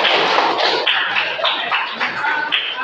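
A classroom of children clapping their hands together, a dense, steady patter of many small claps that fills the room with a few louder swells, fairly close and without talk over it.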